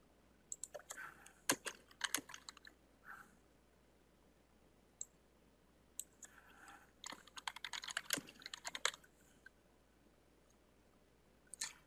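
Typing on a computer keyboard, bursts of light rapid clicks with pauses between them, close but faint in a quiet room with no talk.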